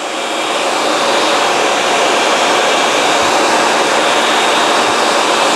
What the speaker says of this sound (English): I'll make a cut down the middle, double stack it, and see what we get there. Just leave the dust system running.